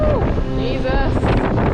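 Strong wind gusting at around 36 knots while sailing a boat off the Peloponnese coast, a loud steady rush with buffeting on the microphone, heard under people talking.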